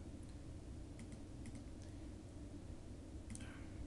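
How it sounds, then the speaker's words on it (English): A computer mouse or keyboard gives a few faint, scattered clicks over a quiet background hum, with a small cluster of clicks near the end and no one talking. "So we can click on that tab"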